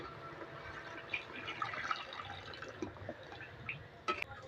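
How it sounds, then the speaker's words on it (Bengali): Water is poured into a pan of fried, spiced potatoes for Kashmiri aloo dum, a quiet trickle broken by faint drips and small splashes. "পরিমাণ মতো জল দিয়ে দেবো।"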